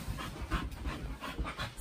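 A dog pants close to the microphone, quick rhythmic breaths repeating steadily, fairly faint and with no talking.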